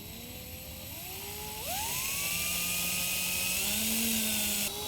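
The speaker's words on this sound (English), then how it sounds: "We're going to drill those out to a 5/16." A power drill whines steadily while drilling 5/16-inch holes in a car hood, its pitch rising as it speeds up and bites in, loud and close.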